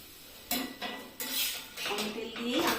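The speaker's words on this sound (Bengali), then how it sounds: "পরোটাগুলো আমি সেঁকে নিচ্ছি তেল দিয়ে।" Palak paratha fries in a pan with a little oil, giving a rising sizzling hiss broken by metallic clinks and scrapes of a utensil against the pan, fairly close.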